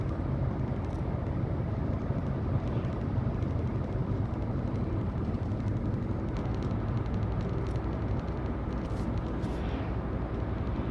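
Car on a commute road in Germany or Luxembourg, driving behind a truck before overtaking, a steady low engine and road rumble with wind noise, heard from inside the car at an even level.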